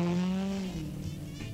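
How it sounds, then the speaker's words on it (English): A cartoon car engine hums, its pitch sliding gradually downward as it draws near, then gives way to a rougher, fainter rumble; no voices. "I hear a car coming."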